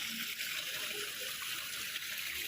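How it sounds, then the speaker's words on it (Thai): Constant rushing, splashing water noise from a garden waterfall feature at a CPF pork processing plant office in Nong Khai, Thailand, steady and fairly close, pouring without a pause. "แนวมุมน้ำตก มีน้ำตกด้วย"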